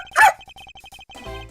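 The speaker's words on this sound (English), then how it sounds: "That's the police dog Gumshoe's been taking care of." A police dog barks once, loud and close, in the Ace Attorney Investigations video game, followed by a steady run of short electronic blips and a brief musical swell.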